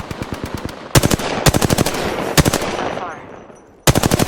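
Gunfire in the Apex Legends video game: loud, close bursts of rapid automatic shots broken by short pauses, with a rumbling tail between bursts and a brief spoken line from a game voice.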